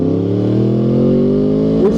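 A crossplane engine runs with its first cylinder misfiring, giving a loud, close, steady drone with an uneven, lopsided beat and a slight rise in pitch near the end.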